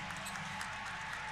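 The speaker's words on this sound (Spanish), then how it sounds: "un aplauso para Samuel" Faint applause and crowd noise for a band member at a sachaguitarra music show, soft scattered clapping over a steady background murmur.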